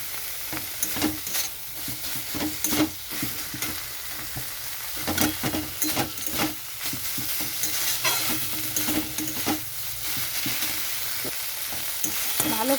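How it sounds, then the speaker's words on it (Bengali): Chopped banana flower being stir-fried with turmeric powder for croquettes, a steady close sizzle broken by frequent scraping clatters of a spatula against the pan, with no talking. "মোচাটা এরকম ভালো করে কষাতে হবে।"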